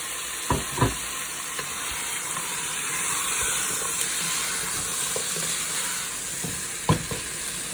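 Ginger, crushed garlic and carrot fry in a pan with a steady, even sizzle and hiss, while a few sharp scrapes and knocks of stirring break through at the start and again near the end.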